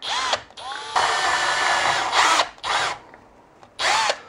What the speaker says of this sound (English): And then we just drill out that center.